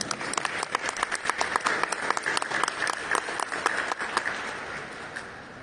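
Lively applause from an audience at a Peruvian ceremony for traditional art, many hands clapping in a quick, dense patter that holds steady and then tapers off near the end.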